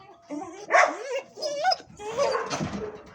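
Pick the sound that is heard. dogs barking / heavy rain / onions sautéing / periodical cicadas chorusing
dogs barking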